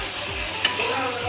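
A spoon scrapes through meat and potato curry in a hot pan, a short soft stirring stroke over a steady sizzle of frying, with one faint clink partway through.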